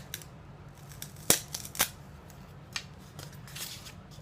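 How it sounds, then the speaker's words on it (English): Scissors trimming material into rounded-edge steps for a lizard enclosure, giving a few crisp, close snips spaced unevenly over a few seconds against a quiet background. "I'm just going to cut it down to the size that I want using rounded edges."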